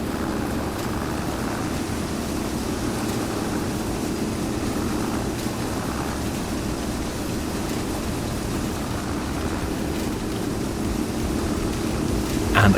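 Steady low engine drone from a cabbed tractor driving in the Farming Simulator 25 video game, a continuous even rumble with hissy broadband noise, heard alone without talk.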